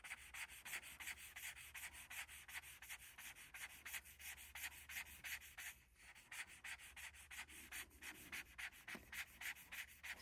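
Ohuhu alcohol markers scratch and rub across paper in quick back-and-forth strokes, a steady rhythmic scratching close to the microphone with a brief pause midway.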